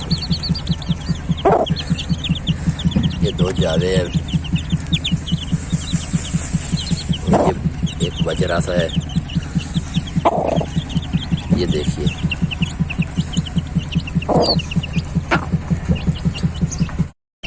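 Aseel hens cluck steadily with chicks peeping nearby while someone talks over them, the birds close and continuous throughout.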